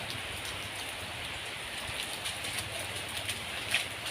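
Steady rain patters on a hard surface, a dense hiss of drops with no voices, constant in level.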